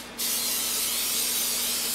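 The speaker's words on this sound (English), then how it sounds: "spray it down with a little Pam canola oil so nothing sticks" Pam canola oil cooking spray hisses from an aerosol can onto a quesadilla maker, one continuous close burst that starts abruptly and runs steadily to the end.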